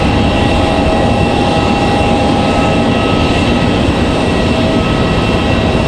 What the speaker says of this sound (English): Got that Delta 737, more than likely headed back to Atlanta, possibly our Salt Lake City flight.